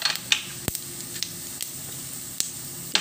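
Bay leaf, black cardamom, cinnamon, asafoetida and cumin seeds sizzle in hot cooking oil, a steady close hiss broken by a few sharp crackles and pops.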